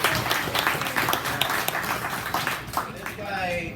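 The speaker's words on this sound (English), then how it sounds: "So a big round of applause, please," Audience applause at a cooking camp graduation in a botanical garden, a dense steady patter of many hands clapping for several seconds with some voices mixed in.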